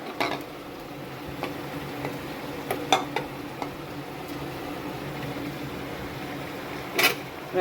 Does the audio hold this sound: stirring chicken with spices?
yes